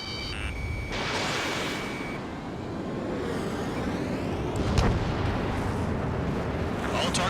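Missile explosions in Ace Combat 7, a jet combat video game: booming blasts and a sharp crack over a continuous roar of jet engines, with a beeping lock-on tone early on.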